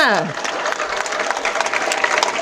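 Audience clapping at a motivational speech, a steady wash of applause that follows a brief voice at the start.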